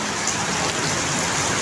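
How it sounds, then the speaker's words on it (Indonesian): Steady, loud hiss of heavy rain and wind during a hailstorm in Bagor, Nganjuk, East Java, a dense continuous downpour with no voices. "hujan angin"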